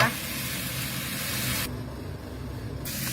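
Cabbage stir-fries with fish sauce in a hot pan, giving a steady close sizzle with stirring scrapes while someone talks over it.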